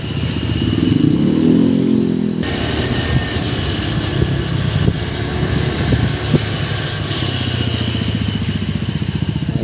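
A motorcycle engine drones close and steady on a ride to Bunot Lake for fishing, its low throbbing hum and rattling clatter running unbroken with no talk over it.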